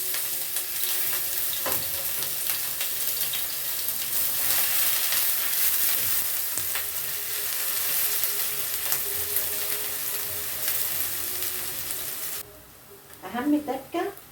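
Chopped onions hitting hot oil in a heated pan give a steady, close, loud sizzle and hiss lasting several seconds, then drop away as a voice briefly speaks at the end.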